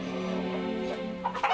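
Fighting roosters clucking close by, a steady run of low throaty clucks with a couple of sharper calls at the end, heard without talk.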